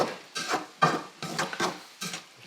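Onions go into a pan of mushrooms and are stirred, a utensil scraping and clacking against the pan in irregular, fairly quiet strokes with soft sizzling patter between them.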